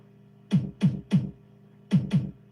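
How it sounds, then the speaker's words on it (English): A break beat built from a chopped kick drum in an electronic track plays as five punchy low thumps, three evenly spaced, a short pause, then two more. "I've added my own sort of like little break beat, chopping up the kick that I used in the track"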